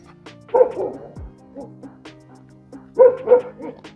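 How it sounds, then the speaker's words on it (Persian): A dog unseen behind a wall in a historic village near Isfahan barks in two short bursts of yips and bow-wows, with a soft whimper between, in a quiet outdoor setting with light rain. "یه سگم اون طرف این دیواره، من خودم نمیبینمش"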